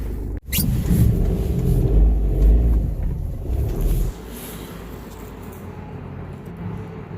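A car engine catches with a sharp start at the very beginning, then runs in a loud, steady low rumble before dropping to a quieter idle-like hum as the car moves off; no one speaks.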